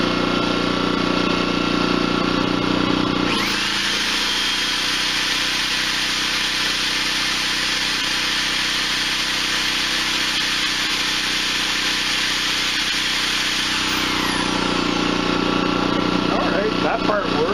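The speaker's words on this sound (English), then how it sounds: "I got a Ryobi power drill." A Ryobi power drill spins up, runs steadily for about ten seconds and winds down, powered by an iPower 2000W dual-fuel inverter generator whose engine hums continuously underneath.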